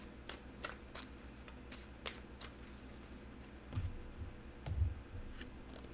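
A tarot deck being handled to draw a card, with a series of crisp, quiet flicks and papery shuffles spread over several seconds, plus a couple of soft low bumps, close and faint.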